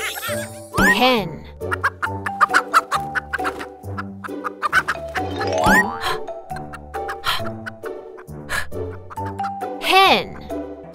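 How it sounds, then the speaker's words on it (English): A hen clucks repeatedly in short, uneven bursts, with a few higher squawks rising above the steady clucking, heard up close. "Hen."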